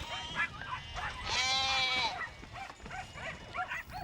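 A sheep lets out one long wavering bleat amid shorter animal calls and shuffling nearby, a flock's noises fairly close, as sheep are loaded for transport in outback Queensland.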